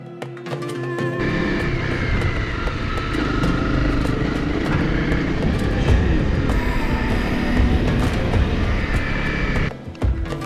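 An off-road motorcycle ride in Morocco's Atlas Mountains produces a steady, loud engine drone with wind rush, continuous for about eight seconds and cutting in and out at the edges, no clear talk over it.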